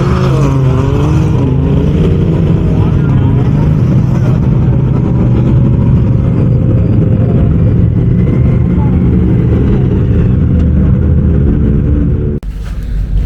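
Off-road race car 0099 at the start of the King of the Hammers race, its engine roaring loud and close with a rough, rising rumble for several seconds before an abrupt cut.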